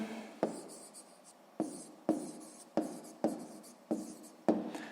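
A pen writes down the answer to a sixth-grade math exercise on paper, giving a series of short, distinct scratching strokes in a steady rhythm, close and quiet, with no talk.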